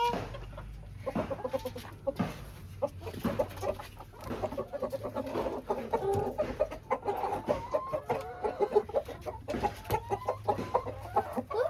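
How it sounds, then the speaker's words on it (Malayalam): Several black chickens cluck and cackle close by in a busy, continuous chorus of short repeated calls, with scattered rustling and faint voices around them. "കറുത്ത കോഴിക്കള്. ആ കോഴി മുട്ട ഇട്ടിക്കല്ലോ"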